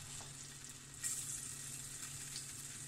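Chilies sizzle in hot oil in a pan, a soft, continuous crackling fry with a brief sharper burst of spattering partway through, close and fairly quiet.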